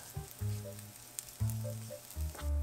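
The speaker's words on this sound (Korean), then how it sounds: "식용유 2~3숟가락, 볶음용 멸치 1컵 반. 중불에서 골고루 볶아줍니다" Anchovies for stir-fry stir-frying in a few spoonfuls of cooking oil over medium heat, a steady close sizzle running alongside a tonal background with recurring low notes.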